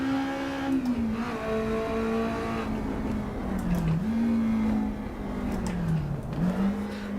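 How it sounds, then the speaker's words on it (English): In the Assetto Corsa EVO racing game, a race car engine revs up and drops back several times with audible gear shifts, a steady mid-level whine that rises and dips without talk. "You can hear the engine, the way it's, and the gears, how much slower it is now."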